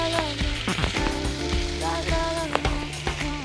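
Hot water poured into a hot cooking pan, a steady loud sizzle and hiss with clattering knocks and pan scrapes running throughout, close and busy, with no talk.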